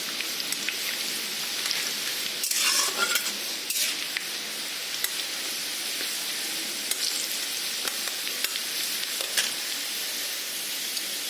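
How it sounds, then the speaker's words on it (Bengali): Onion frying in a pan until lightly browned, a steady soft sizzle like light rain with occasional stirring clatters, moderately quiet and without talk. "পেঁয়াজটা একটু হালকা লাল লাল করে ভাজি নেব আগে।"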